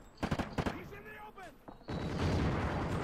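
Gunfire in the shooter Call of Duty: Ghosts, online multiplayer on the Containment map: a few sharp bursts early on, then a dense, steady stretch of game noise, with a voice talking over parts of it.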